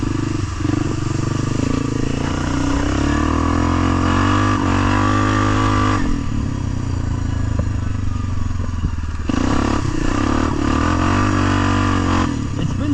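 A quad ATV engine revs hard and steadily while ploughing through mud, the loud motor note rising and falling in pitch with throttle changes and a few brief dips over a constant rumble.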